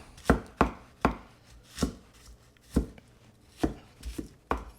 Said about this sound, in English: let's get our onions and stuff sliced up. We're gonna go ahead and get them a little fine.